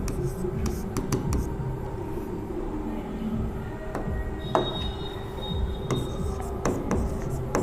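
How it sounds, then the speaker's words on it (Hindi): Pen writing out a Class 10 trigonometry solution by hand, a steady scratchy stroking with a few sharper taps over a low room hum, close and fairly quiet, with no talk. "तो लिखते हैं हल"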